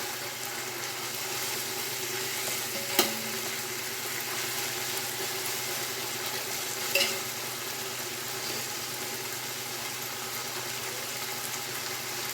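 Ginger garlic paste and mint leaves frying in a pan, giving a steady low sizzle throughout with a couple of brief clicks or stirring taps; no voices.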